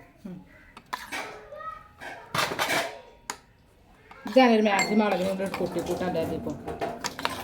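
Dishes and vessels of varying sizes clink and clatter in bursts while biryani is served in a village home, with a voice and other talk over the louder stretch near the end.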